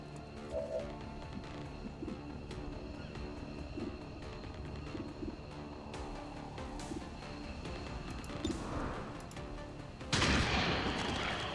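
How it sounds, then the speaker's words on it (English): Shotgun fire in XCOM 2: War of the Chosen, heard as scattered gunshot bursts over a dense battle backdrop with aircraft-like rumble, ending in a louder blast near the close. "Pete's got to get closer to take them out with his shotgun"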